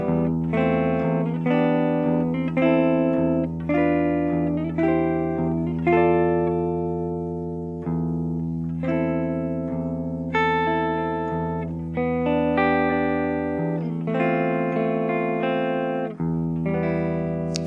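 Strummed and picked guitar chords change one after another over a sustained low E bass note, with a Spanish, flamenco-flavoured feel, played steadily without any talking.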